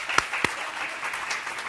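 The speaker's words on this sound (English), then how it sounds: "If we can give her a round of applause" Audience applause at a university presidential chair lecture, a brief, steady wash of clapping with a couple of sharper claps near the start, fairly soft and continuous.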